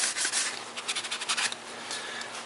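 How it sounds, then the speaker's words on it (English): Light, quick sanding of a homemade PVC flute with 320-grit wet/dry sandpaper, a close, dry scratchy rubbing of irregular short strokes that runs steadily with no voices. "I'm taking a 320 grit piece of wet dry sandpaper, and I'm just lightly going over that quickly"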